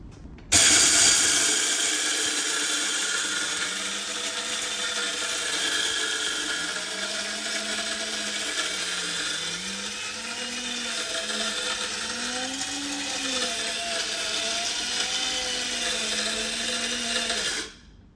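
A high-speed electric grain grinder spinning at 28,000 rpm with a 500 g tilting bowl whines loudly as it pulverizes hard chickpeas into flour, a steady shrill roar with a wavering pitch that runs for about sixteen seconds before cutting off.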